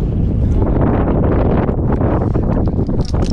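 Loud, steady wind driving snowfall buffets the microphone, a continuous roaring gust with rustling texture throughout.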